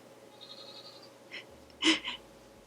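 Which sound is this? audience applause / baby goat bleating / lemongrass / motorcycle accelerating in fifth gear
baby goat bleating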